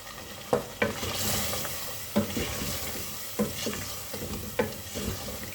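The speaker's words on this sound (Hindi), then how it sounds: "अब हमने मसालों को और चिकन को अच्छे से भून लेना है।" Chicken and spices, including red chilli and turmeric, fry in a pan for degi chicken korma, giving a steady sizzle punctuated by several sharp scraping stirs of a spoon.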